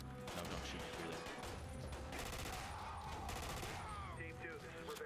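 Dense, continuous gunfire from a shooting video game, rapid overlapping shots and bursts filling the whole stretch at a steady loud level.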